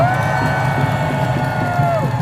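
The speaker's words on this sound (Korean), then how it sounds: "힘내시라고 크게 박수 한번 부탁드립니다" A large crowd at a political party rally cheers and claps loudly and continuously, with shouts and whoops rising from the mass of people.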